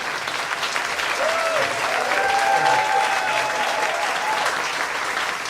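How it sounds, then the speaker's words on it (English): A crowd at a New Orleans jazz piano hour applauds steadily after the performance, with dense, even clapping and some faint voices mixed in throughout. "how about a warm round of applause?"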